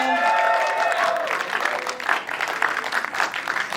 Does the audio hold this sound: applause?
yes